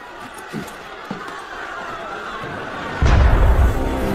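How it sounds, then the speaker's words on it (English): Cannon fire in Assassin's Creed Unity arrives as a single deep, rumbling boom that starts abruptly late on and lingers, after quieter background murmur and a couple of soft knocks. "That was cannon fire."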